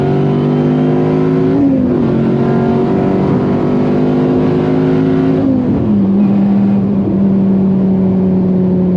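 A Dodge Viper ACR engine on nitrous pulls hard in second gear, a loud, continuous close-up roar whose pitch drops at each gear change.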